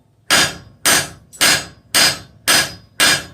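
Six sharp, evenly spaced hammer blows ring out close and loud as a bick iron is forged on an anvil, each strike decaying briefly before the next.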